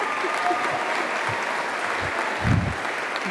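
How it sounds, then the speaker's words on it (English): A graduation ceremony audience applauds the graduating class, giving sustained, even clapping that fills the room at moderate volume, with a slightly louder swell near the end. "give them another round of applause."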